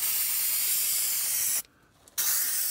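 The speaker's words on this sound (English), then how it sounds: "It's CRC spray adhesive." CRC spray adhesive hissing steadily from an aerosol can close up, one long spray that cuts off briefly for about half a second and then resumes, with no talk.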